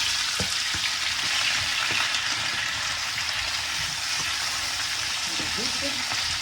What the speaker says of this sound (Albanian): Pasi që është nxehur vaj, tash hedhim domaten edhe